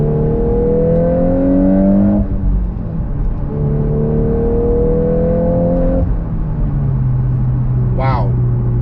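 A VW Golf R hot hatch engine pulls hard through the gears, rising in pitch with two clear shifts and a steady loud drone, and a brief chirp near the end.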